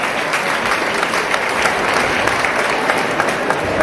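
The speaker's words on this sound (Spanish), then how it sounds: "Un aplauso." An audience at a charity lemon festival applauds a tribute to Fernando Romay with dense, steady clapping from many hands, loud and continuous throughout, with no voices on top.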